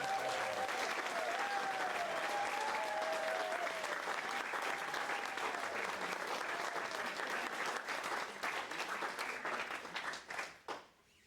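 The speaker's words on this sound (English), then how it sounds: "Please give them a round of applause." Sustained, dense applause from a large audience at a school district staff recognition ceremony, steady and loud for about ten seconds before tapering off quickly at the end.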